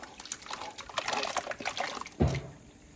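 Beetroot water pours and trickles steadily at close range into a pot of mashed potatoes and boiled vegetables, ending with a brief heavier splash before settling to a faint slosh.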